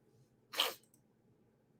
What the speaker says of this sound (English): Sneeze coming.